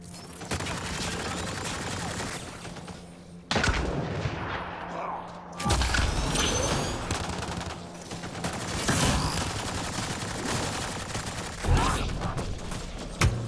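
Rapid gunfire in a Mass Effect: Andromeda combat battle, dense bursts of shots and blasts in waves with brief lulls, loud and up close, with voices shouting over the fighting.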